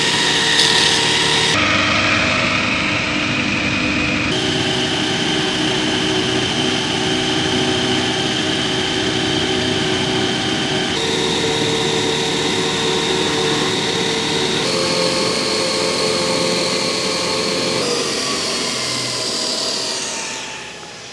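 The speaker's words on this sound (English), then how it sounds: "I'll just give that a bit of a buff over here on the old linisher" A linisher buffs a burr off a piece of metal in a home shed workshop: a loud, continuous motor whine with steady grinding hiss runs for about twenty seconds, then winds down at the end.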